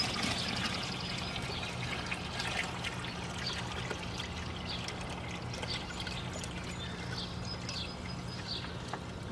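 Cloudy, muddy water poured from a bucket while breaking up brick for a mud and brick fire pit outdoors, a steady continuous splash and trickle running throughout, with faint birds in the background.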